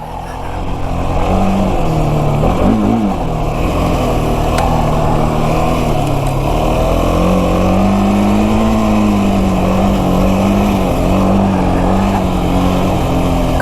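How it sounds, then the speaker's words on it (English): Loud, continuous dirt bike engine drone while riding a KTM 701 Enduro on snow, pitch rising and falling with throttle changes, close up and unbroken. "Ooh, I like this motorcycle."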